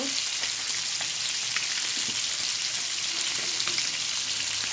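Sar puti fish frying in oil, a dense, continuous close-up sizzle and crackle that holds steady and loud throughout with faint occasional pops and no voices.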